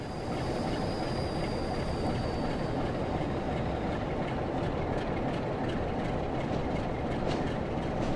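A Class 08 shunting locomotive braking on its independent loco brake at Blackpool North in Train Sim World gives off a steady, loud rail rumble and wheel noise that holds unbroken throughout.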